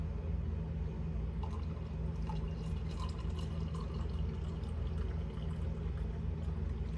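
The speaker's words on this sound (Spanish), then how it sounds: "Y pues le vamos a poner agüita." Hot water pours steadily into a teaspoon of passion fruit concentrate in a kitchen, a soft continuous trickle with faint drips running for the whole stretch, with no talk.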